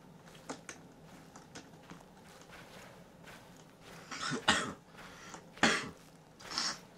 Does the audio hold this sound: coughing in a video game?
yes